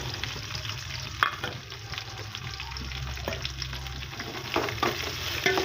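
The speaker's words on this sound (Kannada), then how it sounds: "ಈರುಳ್ಳಿ ಚೆನ್ನಾಗಿ ಫ್ರೈ ಆಗಲಿ." Chopped onions sizzling in a hot pan with garlic, a steady crackling fry with occasional stirring scrapes and clinks throughout.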